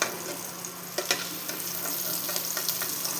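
Boiled potato pieces lightly frying in oil in a pan, an even close sizzle with occasional stirring scrapes and soft pops, continuous with no talk.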